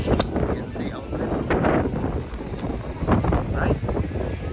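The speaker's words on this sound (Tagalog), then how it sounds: "Medyo mahangin lang guys." Wind rushes steadily across the microphone at an outdoor Philippine Independence Day celebration in Amsterdam, a broad, constant roar with faint crowd activity beneath.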